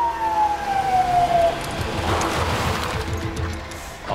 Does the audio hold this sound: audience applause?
no